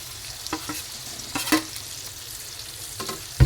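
Pre-cooked tofu being added to pork already frying in its own rendered fat and stir-fried together. A soft, low sizzle is broken by a handful of brief scraping and clattering stirs.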